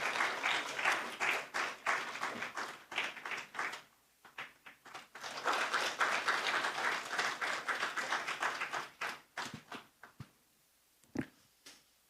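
Church congregation applauding as the pastor is welcomed forward: dense, sustained clapping from many hands, briefly easing before swelling again, then thinning into scattered claps and fading out.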